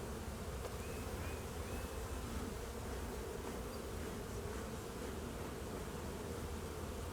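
Honey bees buzz in a continuous, close drone during a January hive inspection, a steady dense hum with occasional individual bees passing near.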